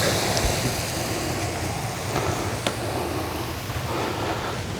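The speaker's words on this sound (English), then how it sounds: "I need to let all the pressure out of the hose, so it's got to be flowing when I shut it off" Water rushes steadily out of an expanding garden hose in a detailing shop as its pressure is released, a loud, close, continuous hiss and splash with no talk.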